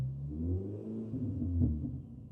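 Mini Cooper S R53 with a custom exhaust held around 2,000 rpm, heard from inside the car as a low, steady droning rumble with a slight rise and fall, fairly quiet and with no talking.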